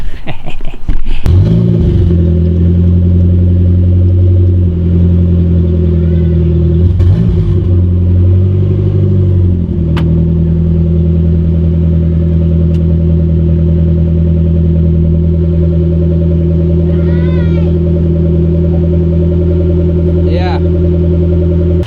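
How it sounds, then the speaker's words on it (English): A Nissan KA24DET engine, run without oil, cranks and fires, then settles into a loud, steady idle close by with a deep rumble. Brief voice sounds come near the start and a few small noises occur over the running engine. "I just started my motor without any oil in it."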